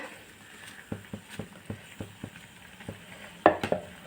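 Drumstick leaves (moringa greens) dropped into boiling water in a pot and stirred, with a steady series of soft spoon scrapes and clacks under a low bubbling hiss, ending in a couple of louder knocks.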